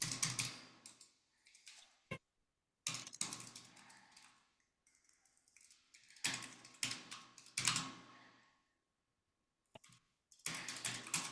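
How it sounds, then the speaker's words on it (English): Computer keyboard typing in bursts of quick clicks, with pauses between runs, fairly close and alone, picked up during an online advisory committee meeting. "Sounded like Melissa's typing, so we got it down"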